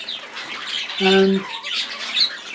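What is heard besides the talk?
zebra finches squawking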